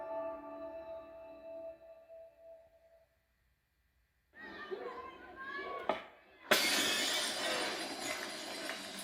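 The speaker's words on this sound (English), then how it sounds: "You won't just hear glass break." Glass shattering in a Dolby Atmos surround demo played through an OVO U5 portable projector: a quiet tonal passage and a brief silence give way to a sharp, bright crash and a sustained burst of scattering debris.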